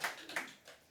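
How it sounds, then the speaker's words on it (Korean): A few faint, scattered claps from an audience at a Buddhist temple service, three soft hand strikes spaced unevenly across a brief moment. "그래서 이제 박수 확실하게 쳐주세요."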